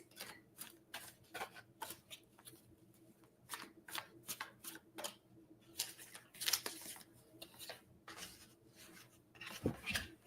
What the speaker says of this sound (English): I'm going to throw 3 cards, Ness,